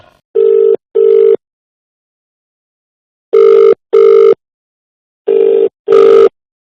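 A telephone call is placed as part of a prank call on a Telugu TV show, and the line rings in three evenly spaced pairs of loud electronic tones, each pair separated by silence.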